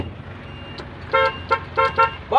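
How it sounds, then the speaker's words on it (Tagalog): A car horn sounds in several short honks, loud and close, following a few faint clicks and mechanical noises, as it is tested after a blown fuse is replaced. "Testingin natin ang busina."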